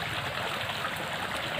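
Water flowing steadily while irrigating an onion field at night, a continuous close hiss and gurgle like a small stream, with no talk.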